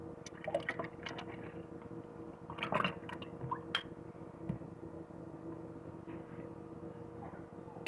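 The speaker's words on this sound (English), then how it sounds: "Pour your coffee right on in." Coffee pours into a blender with candy corn for a candy corn mocha, a faint liquid splash and patter with a few small knocks and clicks, close and quiet, no talking.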